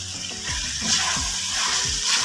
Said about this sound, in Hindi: से 3 मिनट तक हम अदरक और लहसुन के पेस्ट को फ्राई कर लेंगे।